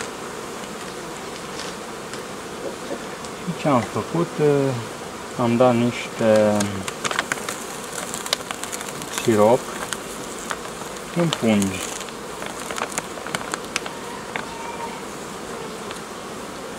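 Honeybees at a newly formed swarm hive on five frames, a continuous insect buzz running beneath someone talking nearby, with his voice in intermittent bursts over the steady hum.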